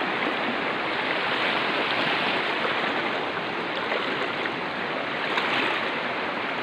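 A shallow river rushes steadily with a strong current, a constant full hiss of flowing water and no pauses or voices.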